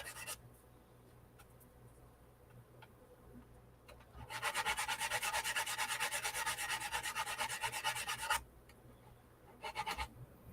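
A model part is sanded flat, with a quiet background followed by about four seconds of steady, rhythmic rasping strokes, then a short second burst of rubbing near the end.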